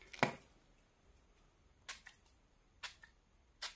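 Setting spray misted over powdered makeup: four short, close hissing spritzes separated by pauses of about a second in an otherwise quiet room.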